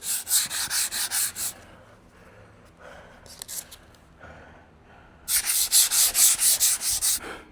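A sanding wheel grinds an aluminum boat hull in rapid rhythmic bursts, loud and close, stopping for a quiet stretch with a brief pass in between, then resuming strongly.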